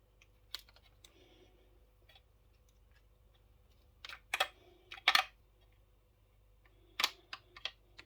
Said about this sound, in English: we're removing the screw for the shock absorber